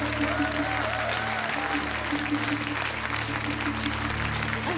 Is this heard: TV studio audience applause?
yes